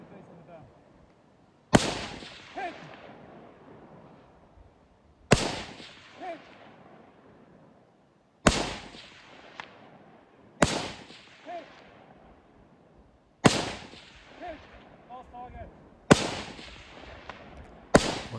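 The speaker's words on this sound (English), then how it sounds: "So this was just straight down, prone, more or less target shooting." Rifle gunshots from prone target shooting at about 300 meters, six sharp loud reports spaced a few seconds apart, each with a decaying echo tail, with faint voices between shots.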